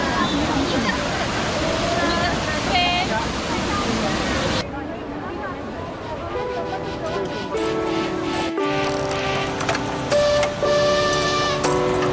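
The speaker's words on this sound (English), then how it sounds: "So just behind us is Trevi Fountain." Water from the Trevi Fountain in Rome rushes in a steady broadband wash for the first few seconds. The sound then cuts to a different ambience with crowd murmur and scattered tonal sounds.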